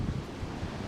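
Gusty wind blows steadily outdoors in a low, broadband roar with buffeting on the microphone, a flag presumably flapping somewhere in the rush, with no voices present.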